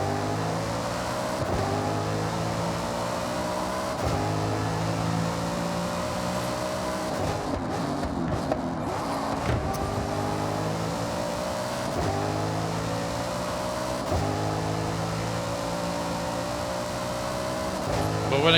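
A race car engine in the video game Forza Horizon 6, revving up through the gears in repeated climbing whines with brief drops at each shift, loud and continuous for the whole stretch.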